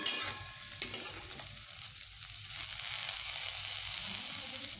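Bitter gourd pieces frying in a pan give a steady, moderate sizzle with a few sharp clicks near the start, the hiss holding evenly throughout and no one speaking.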